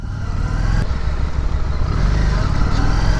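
A Harley Davidson Street 500 motorcycle rides along with a loud, continuous engine drone and rising rev, heard up close from the rider's position with wind rush over it.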